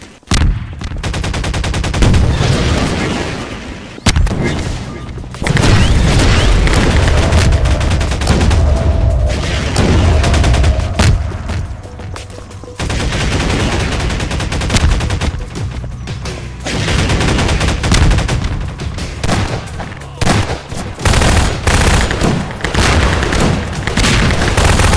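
Loud, nearly continuous video game gunfire, with rapid automatic bursts and booming explosions, fills the whole stretch with only brief dips in intensity.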